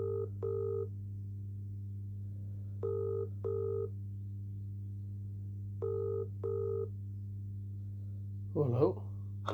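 Telephone ringing out on an outgoing call, repeated double ring tones at a steady rhythm over a constant low hum, clear and moderately quiet, followed by a brief burst of voice at the end.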